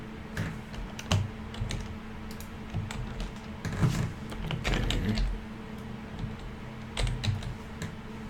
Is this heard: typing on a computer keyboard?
yes